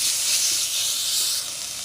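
Chicken meat sizzling in a hot pan during a Thai ginger chicken stir-fry, a loud steady hiss that continues throughout.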